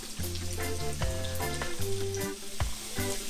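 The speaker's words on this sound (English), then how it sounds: "you don't want to overcrowd your pan because the oxtails won't brown effectively" Oxtails browning in a pan for a stew, a steady sizzle and crackle of hot fat under a tonal musical backing, close and even throughout.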